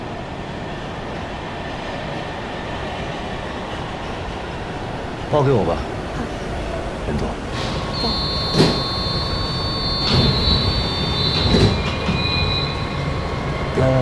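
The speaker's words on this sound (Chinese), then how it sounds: "地铁来了" A subway train arriving at the station, its steady rumble building into metallic wheel squeals and clanks as it slows, with people talking on the platform.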